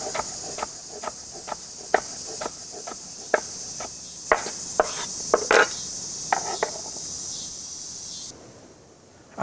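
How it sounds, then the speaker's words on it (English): Nopales are chopped on a cutting board for steak tacos, a steady series of sharp knife taps roughly every half second, outdoors against a loud, constant chorus of crickets. "And then once I get all of this chopped up, I'm going to be ready to grill the meat."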